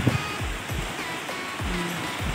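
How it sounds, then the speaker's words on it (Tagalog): Light rain falls on a wet residential spot in the Philippines on a rainy Good Friday, a steady soft hiss with scattered drips and low splashes, close by and with no voices. "Kunting ulan lang yan guys, basa na dito."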